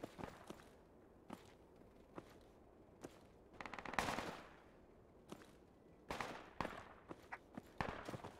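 Gunshots crack in the video game Project Reality, some as single reports and some as short rapid strings at varying distances. Several louder bursts stand out against a quiet background.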